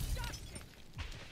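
Glass shatters in a first-person shooter inside a stash house, a quiet, brief crash with a second burst of breaking about a second later.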